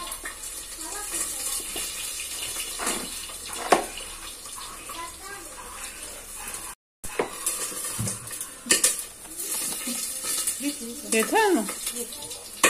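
Dishes, pots and cutlery clatter and clink in a home kitchen during cooking, with scattered sharp knocks and running water, while people talk nearby.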